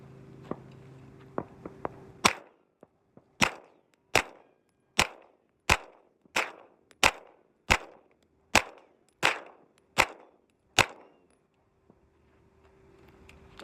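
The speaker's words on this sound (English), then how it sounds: "All of these pistols are just shooting razor sharp." Eleven sharp pistol shots from a customized MK3 Beretta 92X metal-frame handgun ring out at a steady, even pace after a few light clicks, each crack fading with a short echo, distant and alone.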